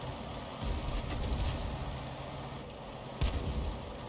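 Artillery shell fired from a Grille self-propelled gun in World of Tanks: a heavy, distant-sounding boom late in the clip over a steady low battlefield rumble, with a softer thump earlier.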